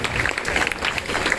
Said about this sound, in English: can you join your round of applause to all panelists?